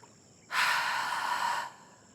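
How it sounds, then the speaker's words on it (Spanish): During a kids' yoga exercise, a single long, deep exhale of breath flows out for about a second, soft and breathy at close range, with quiet before and after. "Seguimos respirando profundamente."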